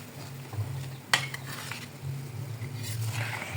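Food stirred in a pan during cooking, likely with a utensil: low, soft scraping and stirring, with one sharper metallic clink near the start and faint sizzling underneath, no voices.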